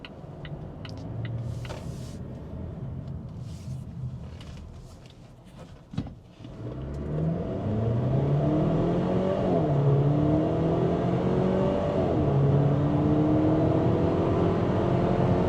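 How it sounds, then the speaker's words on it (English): A 2023 Volvo XC40 compact SUV pulls away at full throttle, a quiet idle giving way after a thump to a loud rising engine drone that climbs through several gear changes. "I'm gonna give it full throttle so you can see yourself"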